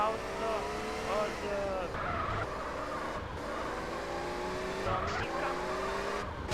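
A car skids with tires squealing in long sliding tones, loud and continuous, set in a Fast and Furious style street-racing game; a voice talks over it.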